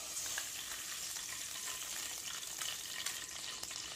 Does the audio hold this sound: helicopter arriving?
no